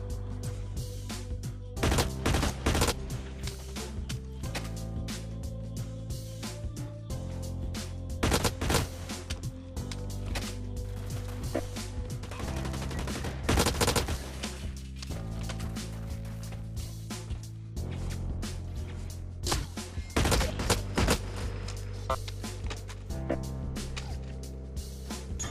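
Tap-fired guns in Blacklight Retribution crack out in short, spaced bursts and single shots, loud and close, continuing throughout with no talking.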